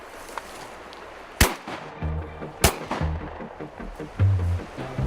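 Shotgun blasts while duck hunting on a river on a cold morning: two sharp, loud reports about a second apart, followed by a low rumbling echo and movement nearby.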